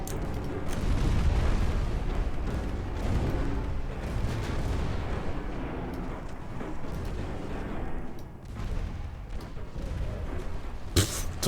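Torpedo explosions in a video game naval battle merge into a continuous, heavy, low booming rumble that swells and fades without distinct separate blasts.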